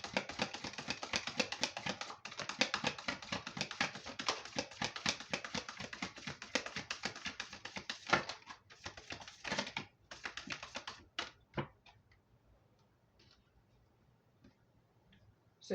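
A deck of tarot cards is shuffled close up: rapid, dense riffling patter runs for about eleven seconds, then gives way to a few isolated taps and near silence.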